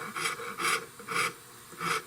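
Rasp filing the wooden stock of a 16-gauge shotgun, with four steady rhythmic rasping strokes evenly spaced, close and clear, with no talk.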